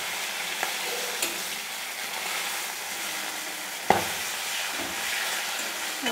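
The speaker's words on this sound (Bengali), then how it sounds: "আমার মাথাগুলি লাল লাল করে ভাজা হয়ে গেছে। আমি একটু ওখানে ভেঙে দিচ্ছি।" Hilsa fish heads fry in a pan with a steady, close sizzle, and a few sharp clinks and scrapes come as they are broken apart and stirred.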